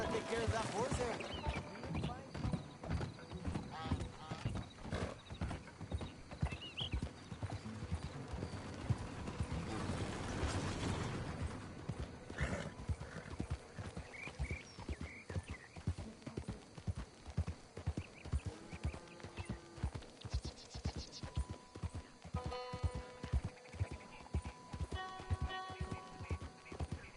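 Steady clip-clop of horse hooves trotting throughout in the video game Red Dead Redemption 2, with a horse's whinny and people talking over the hoofbeats at times.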